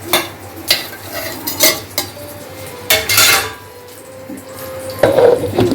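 Onions stirred in a hot pan while making curry-leaf chutney powder, with repeated scraping and clinking of a spoon against the pan over a soft sizzle, close and fairly loud with no talking.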